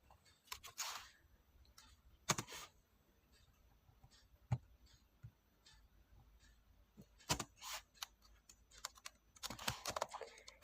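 Computer keyboard typing in irregular bursts of quick, crisp key clicks, close and fairly quiet, with a few louder single keystrokes and pauses between runs.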